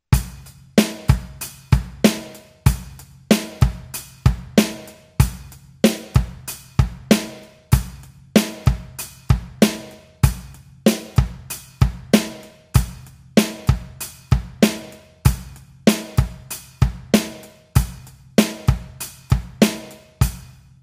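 A drum kit plays a steady eighth-note beat, hi-hat or cymbal strokes ticking evenly over bass drum hits on one, the and of two and the and of three, with snare backbeats, close and alone, no talking.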